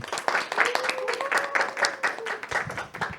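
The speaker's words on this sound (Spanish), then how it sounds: "Agradecemos a Gabriela Villegas esta carga de fe con un fuerte aplauso." Audience applause at a Catholic faith talk show, dense steady clapping throughout with a faint voice tone running under it, fairly loud and close.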